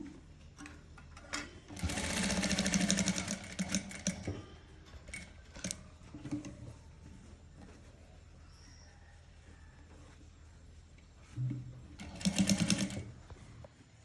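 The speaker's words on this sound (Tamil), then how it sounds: "இந்த விளிம்பில் ஒரு படிமான தையல் ஒன்று போட போகிறேன்" Sewing machine stitching along the neckline edge of a princess-line frock, starting at the shoulder, running in two loud bursts of rapid needle clatter separated by quieter handling and faint ticks.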